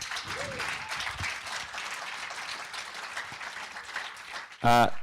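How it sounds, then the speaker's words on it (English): Audience clapping for a volunteer at a live talk, a moderate, even patter of applause with some voices underneath, ending with a brief louder burst. "Round of applause for Ramsey, everyone."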